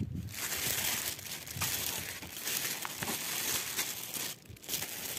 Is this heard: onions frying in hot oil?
no